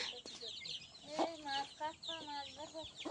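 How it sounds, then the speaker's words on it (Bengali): A mother hen and her small chicks, about fifteen, out in the morning, cluck and chirp in soft repeated bursts close by, with a steady outdoor background underneath. "মা ছোট্ট ছোট্ট মুরগি বাচ্চা তুলেছে, আর এই হচ্ছে বাচ্চাদের মা।"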